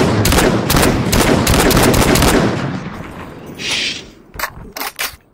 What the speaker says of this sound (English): Somebody used a shotgun.